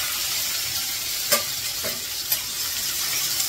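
Cumin, fresh garlic and fresh onion fry in hot oil with a continuous bright sizzle, broken by a few short scraping stirs, close and steady with no one talking.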